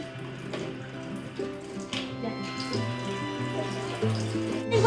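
Water from a tap runs steadily into a bucket, a constant moderate splashing stream heard close by with no talking.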